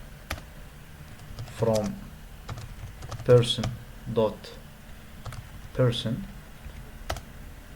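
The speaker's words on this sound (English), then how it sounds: "Click here on new query, and let's type select all" Typing on a computer keyboard in short bursts of clicking keystrokes, close and clear, spread across several seconds while a person speaks over them.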